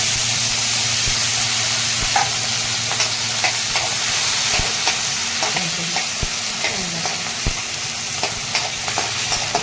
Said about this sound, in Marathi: शेंगदाण्याच्या तेलामध्ये हिरवी मिरची कट करून तळायला टाकलेले आहे।